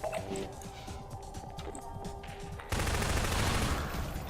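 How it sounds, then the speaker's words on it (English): In Half-Life 2, the gravity gun fires with a sharp burst and then a loud, sustained, noisy blast. Softer game sounds and clatter come before it. "We'll need the gravity gun to get these down."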